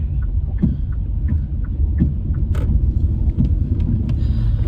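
A car drives along a town street with a steady low interior rumble and scattered small clicks and rattles, heard from inside the vehicle without talk.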